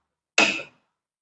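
A motor starter contactor snapping shut, giving a single sharp click with a brief metallic buzz that dies away within a fraction of a second, close up and isolated.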